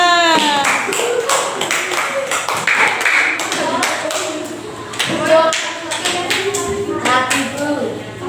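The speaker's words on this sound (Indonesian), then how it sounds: "Nah, silakan duduk, tepuk tangan untuk kita semua." A classroom of students claps together, a loud, close burst of dense applause mixed with children's voices and chatter throughout.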